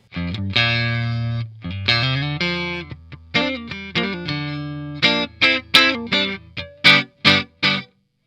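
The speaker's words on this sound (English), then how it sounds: "So here's clean tone. Well, let's turn off the reverb." A clean Eastman Fullertone electric guitar with no reverb plays a run of plucked notes and chords, each ending dry and abrupt, building to short staccato stabs.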